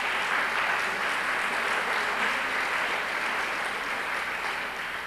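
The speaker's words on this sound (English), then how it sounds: "So let's give a round of applause to them." An audience at a 1998 architecture lecture breaks into applause, a dense, steady clapping from many hands that fills the room and continues evenly before fading slightly at the end.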